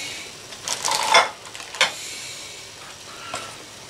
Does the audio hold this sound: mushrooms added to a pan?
yes